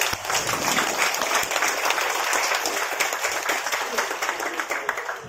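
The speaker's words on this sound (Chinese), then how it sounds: "我想是不是先借用各位的掌声来谢谢我们所有的来宾长官" Guests at an army vocational school alumni association founding ceremony in Taitung give a sustained round of applause, many hands clapping together at a steady, lively level with no talk on top.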